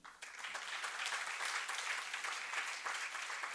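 Devotees at a temple celebration clap together in a steady, fairly soft burst of applause that carries on evenly throughout.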